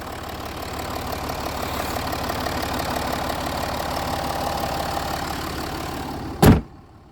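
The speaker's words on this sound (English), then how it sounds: "It's a lovely engine, this, very powerful." A Jaguar XF engine with a six-speed automatic gearbox idles steadily and smoothly at close range, ending abruptly in a loud thump as a door closes.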